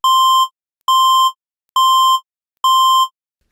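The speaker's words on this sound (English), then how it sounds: "Are you just going to keep beeping me?" Electronic beeping repeats four times at an even pace, each tone clear, loud and about half a second long, separated by silence.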